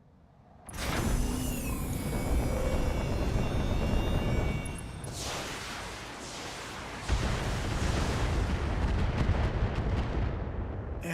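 SRM missiles slam into a mech in the BattleTech BTA mod, a sustained roar of blasts and rumbling impacts with a sharp onset, a brief dip, then a second heavy surge.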